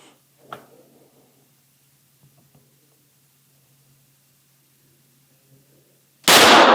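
A Springfield Hellcat pistol goes off without its trigger being pulled: near silence with a faint early click, then one sudden, very loud, sharp blast right at the end.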